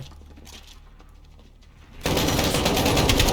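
Sustained, loud automatic gunfire in Call of Duty: Modern Warfare (2019) erupts abruptly midway and rattles on densely to the end, following a quieter stretch of softer game noise.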